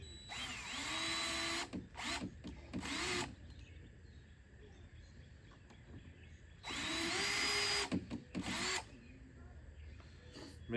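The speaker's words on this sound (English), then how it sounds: "I'm gonna drill a hole in the ends." A power drill whirs in two long bursts with several shorter spurts between, its motor pitch rising and falling as it bores holes into the ends of a roughly 5-foot wooden piece.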